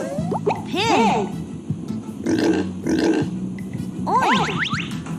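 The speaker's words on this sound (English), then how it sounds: "A pig makes a oink sound." Close, loud grunting and oinking from a pig comes in a few separate snorty bursts spaced across several seconds.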